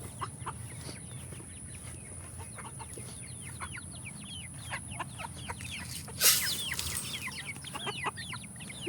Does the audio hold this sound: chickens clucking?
yes